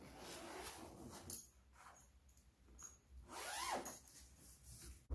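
The zipper on a memory foam mattress cover is pulled open in a few rasping strokes, close and moderately loud, with short pauses between pulls.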